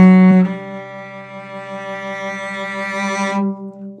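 A cello sustains a single held G under a fermata from a Suzuki book 1 piece, a steady bowed tone rich in harmonics that swells slightly and is released after about three and a half seconds.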